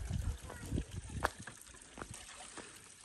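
Drinking water from a mountain spring runs out of a pipe in a village in Swat, a steady trickling splash close by, with faint talk in the background.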